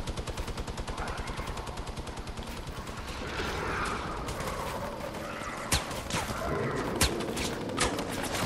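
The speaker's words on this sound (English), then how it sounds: "Stop shooting, stop." Rapid automatic gunfire in a video game rattles in a steady stream, then gives way to scattered sharper single shots, moderately loud.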